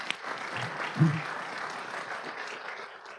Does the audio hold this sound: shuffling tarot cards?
no